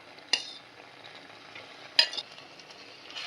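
Cooked vegetables are tipped into a simmering navratan korma and stirred, giving two sharp clattering hits of spoon against the pan over a soft continuous sizzle and bubbling.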